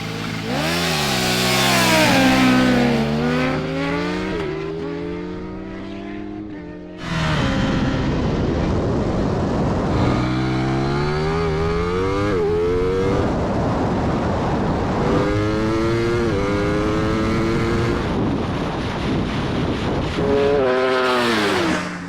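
Hyper naked motorcycles scream through the gears during a drag race: the engine note rises in pitch, cuts briefly at each shift and climbs again. The sound is loud and close, with a pause between two runs.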